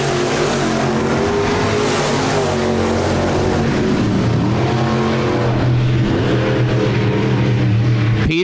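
SportMod race cars circling the dirt oval at Park Jefferson Speedway in an evening race, engines droning loud and continuous with rising and falling revs as the pack passes close by, no voices over it.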